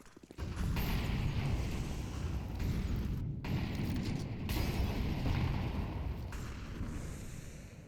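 A high-explosive grenade goes off in Counter-Strike on the Inferno map, giving a sustained loud boom and rumble that lingers for several seconds with brief dips, heard without any talk over it.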